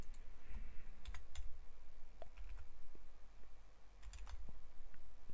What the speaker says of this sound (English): I just feel it when I was typing.